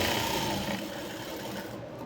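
Sewing machine stitching a jumpsuit seam, a short close whirring buzz that runs steadily and eases slightly toward the end.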